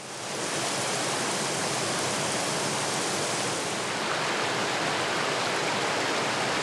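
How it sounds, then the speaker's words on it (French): Spectacular waterfalls in the Costa Rican jungle give a continuous, loud, broadband rushing roar that holds steady throughout with no voices. "Témoin, ces cascades spectaculaires."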